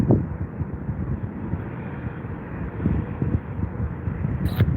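An arriving airliner at Heathrow airport produces a steady, fairly loud jet rumble, with wind noise on the microphone.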